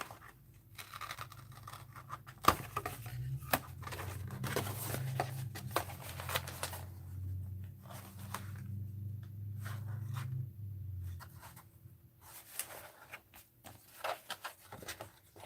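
Paper is cut and handled for an art journal, with scattered scissor snips, scratchy rustling and crinkling, then a stretch of denser handling noise before sparse snips return; close and fairly quiet, with no talking.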